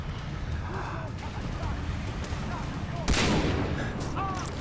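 Sniper rifle fire in Far Cry 3, a sharp loud blast about three seconds in over a continuous bed of game noise and background gunfire, with someone talking over it.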